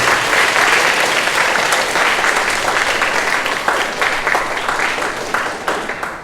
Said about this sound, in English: So please give a round of applause to all the teachers and coaches.